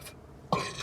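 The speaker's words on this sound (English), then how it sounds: "I have horrible burps." A single short burp from a man bursts out in the middle of the clip, loud and close, after a brief quiet pause.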